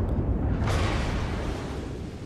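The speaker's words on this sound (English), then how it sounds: "Sadly, I forget that the Scharnhorst actually has really fast guns." Heavy naval gunfire from the battleship Scharnhorst in a naval combat game, a deep rumbling boom with a sharp crack near the start that rolls on and decays slowly.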